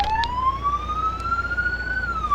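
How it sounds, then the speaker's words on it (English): A single video game police car siren tone slides slowly upward then dips slightly, steady and fairly loud, with a faint low hum underneath. "There are a bunch of sirens to choose from."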